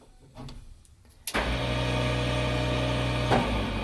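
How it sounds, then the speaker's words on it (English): Electric fuel pump priming after a switch is flipped: a faint click, then a sudden steady mechanical whir and hum that starts abruptly and holds at an even level, close by, with no talking. "You'll hear fuel pump priming."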